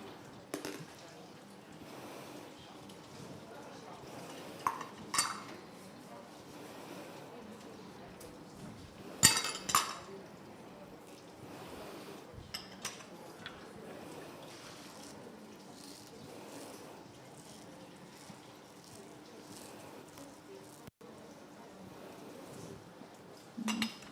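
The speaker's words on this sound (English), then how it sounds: "So just give it a stir." A spoon stirring a chocolate couverture mixture with added ingredients in a bowl, faint scraping with scattered light clinks of utensil against the dish, quiet and intermittent over a low room hum.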